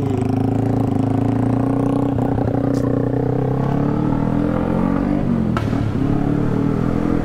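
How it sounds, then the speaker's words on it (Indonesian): A loud Honda Scoopy motorcycle engine rumbles steadily and close by, with rattling clatter over the idle and no speech. "Aduh berisik tuh motor tuh"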